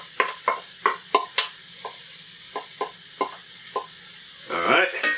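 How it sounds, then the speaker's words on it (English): Ground meat is tossed into a pan of softened onions, with about ten sharp knocks and scrapes in a loose rhythm, followed by a swelling burst of frying sizzle at the end. "What we're going to do now is toss in that meat."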